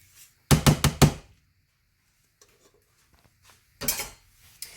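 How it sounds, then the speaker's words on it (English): A banana bread pan full of batter is rapped against a counter: a quick cluster of four sharp knocks, then a pause and one more pair of thuds, loud and close. "we want to tap it to release any air bubbles to make sure it cooks evenly"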